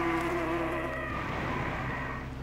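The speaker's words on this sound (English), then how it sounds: "And we also summoned some bees, it seems" Summoned bees buzzing in the Magic Carpet video game, a steady, loud droning hum with a harmonic tone that holds for about a second and then breaks into a rougher, fluttering swarm buzz.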